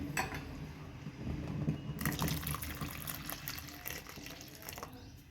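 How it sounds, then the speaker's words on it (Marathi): Water poured from a glass into a bowl of chopped chandan batwa wild greens mixed with gram flour: a steady close splashing pour after a quieter start, with a light clink early on. "यामध्ये मी अर्धा ग्लास पाणी घालणार आहे."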